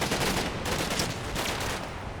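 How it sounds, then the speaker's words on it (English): Dense gunfire in Combat Mission: Black Sea, a continuous loud rattle of overlapping shots with no pauses across the short stretch. "shooting continues, taking casualties here"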